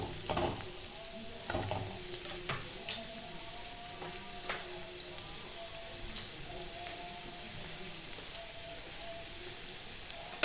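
White sauce for pasta is stirred in a pan over a quiet sizzle, with several soft scrapes and clinks of the spoon near the start before the sound settles into low bubbling.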